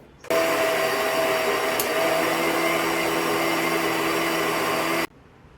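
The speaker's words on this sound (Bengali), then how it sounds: "একবার মিক্সিতে একটু মিশিয়ে নেব।" A kitchen mixer grinder whirs loudly for about five seconds while blending sugar, turmeric and Kashmiri chilli powder, starting and stopping abruptly with a steady high motor whine and no talking.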